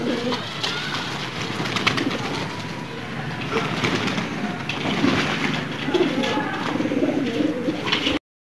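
A flock of pigeons bathing, with soft cooing and fluttering mixed into steady splashing and rustling, recorded nearby at a moderate level until an abrupt cut at the end.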